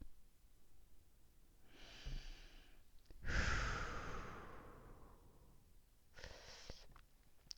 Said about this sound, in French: Donc cessez de penser et commencez à respirer.